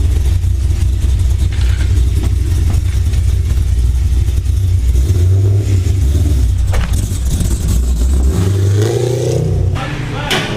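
2010 Chevrolet Camaro SS engine idling high on a dyno, a loud steady rumble that swells into a brief rev near the end.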